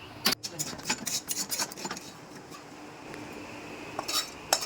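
Lentil paste being pressed and spread by hand on a metal plate, with scraping rubs and a few sharp clinks of the plate in quick irregular bursts, close and quiet, then a softer stretch before more clinks.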